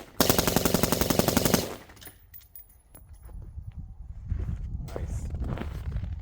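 A Colt 6920 rifle fitted with an OSS suppressor fires a fast string of rapid shots in a dense burst lasting over a second, then clinks and shuffling follow with quiet talk.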